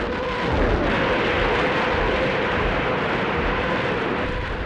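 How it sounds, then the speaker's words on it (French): A Stalingrad battlefield barrage of thousands of cannons and Katyusha rocket launchers at dawn, rendered as a continuous heavy rumbling roar with no separate blasts standing out, steady and loud throughout. "À 5 heures du matin, 3000 canons et orgues de Staline écrasent les lignes ennemies."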